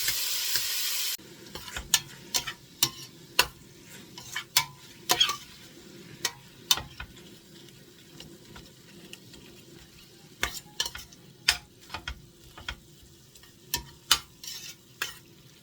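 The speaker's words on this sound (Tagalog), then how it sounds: "Gisa-gisa lang natin guys" Ground pork sautéing in a pan with a soft sizzle, punctuated by repeated sharp clicks and scrapes of a utensil stirring against the pan.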